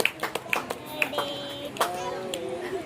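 Scattered hand claps ring out at a small family gathering around a cake cutting, sharp individual slaps spaced unevenly, with children's voices and chatter in the background.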